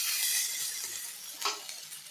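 Masala spice paste frying in a pan for a home-style fish curry, giving a steady, close sizzling hiss broken by a few soft scrapes as it is stirred.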